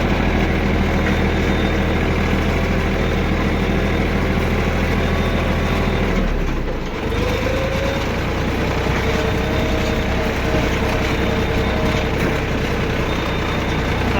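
A tractor engine drones loud and close while riding aboard, a continuous heavy low rumble with a brief dip and shift in pitch midway before settling back to a steady run.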